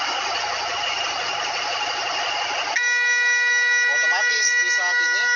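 Heavy equipment diesel engine running steadily while the operator shifts into first gear, a loud droning idle that changes to a tonal, whining hum partway through, with no talk.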